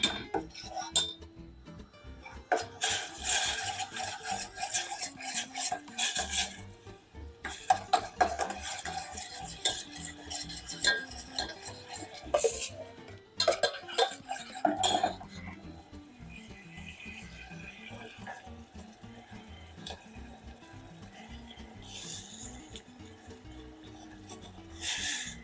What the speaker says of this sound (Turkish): Hemen şöyle salçamızı da kavuruyorum.